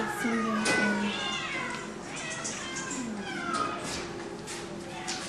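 Soft, close meows from a young female cat at an animal shelter repeat over a low background hum while people talk quietly nearby.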